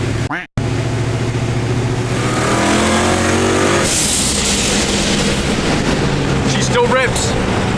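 A Saleen sports car at an airstrip meet, its engine roaring loudly and revving hard from close by with a rising, strained pitch. Voices can be heard over the engine noise.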